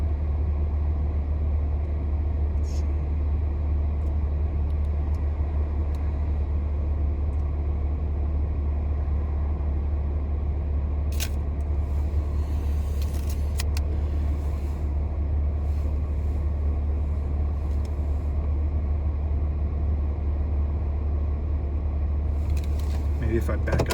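Car idling while parked in winter, heard from inside the cabin: a steady low engine hum throughout with faint occasional clicks and rustles, no speech.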